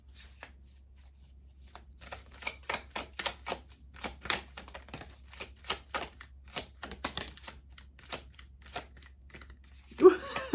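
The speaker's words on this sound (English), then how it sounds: "This deck is so hard for me to shuffle." A deck of oracle cards is shuffled by hand, giving a string of quick, crisp papery riffles and slaps in irregular bursts against a quiet room hum, with a brief voice at the end.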